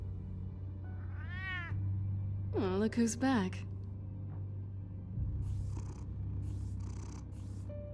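A cat in Batman: The Telltale Series video game lets out a rising meow and then a louder, wavering meow over a low steady purr, while a voice speaks briefly near the start.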